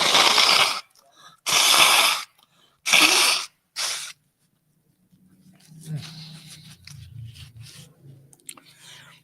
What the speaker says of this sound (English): the only thing worse than hearing your host sneeze is seeing him sneeze and blow his nose